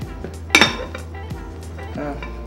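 Dishes and cutlery clink and clatter close by in a kitchen during a search for a pot lid, with a sharp ringing clank early on and a few softer knocks afterward.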